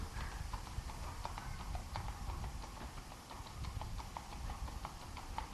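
A steady, gaited horse clip-clops along under a rider, its hoof falls landing in an even, continuous rhythm over a soft, windy outdoor background, with no talk.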